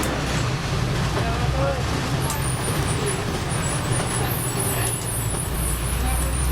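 A city bus idles and rolls with a steady low engine drone and traffic around it, a brief hiss of air brakes, and high whining tones partway through. A voice talks over it.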